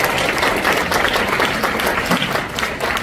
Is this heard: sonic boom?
no